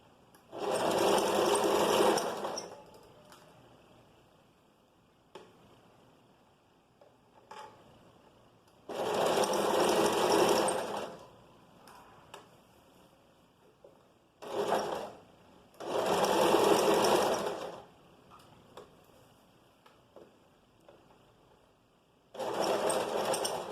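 Sewing machine stitching across a seam junction on a vest, running in four long bursts of a few seconds each with short pauses and quieter handling noise between them, close and loud.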